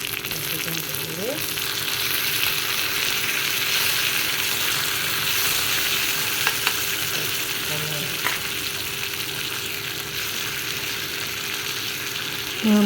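Chopped tomatoes frying with whole spices in a pan for a spicy fish curry, a steady dense sizzle throughout with occasional faint stirring clicks, close and continuous.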